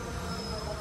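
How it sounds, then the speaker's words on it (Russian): Passenger train in motion, a steady low rumble with rail noise and a faint high whine, heard from inside a carriage at close range; no talking. "Наш поезд едет."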